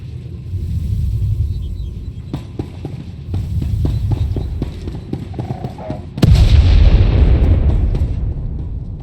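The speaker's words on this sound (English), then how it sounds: "Prepare to fire weapon on my command." Starship weapon firing in the Star Wars The Old Republic game: a low throbbing hum with a series of dull thuds, then a sudden loud burst around six seconds that settles into a heavy, roaring rumble.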